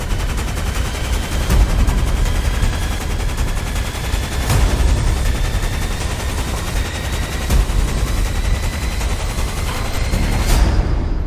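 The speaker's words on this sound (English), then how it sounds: "Do not stop shooting." Sustained gunfire rattles without pause, dense volleys of sharp shots overlapping like a heavy firefight, loud and continuous with occasional harder cracks standing out.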